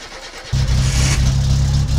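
Car engine in the driving game My Summer Car cranks briefly, then catches and settles into a loud, steady low idle that runs to the end.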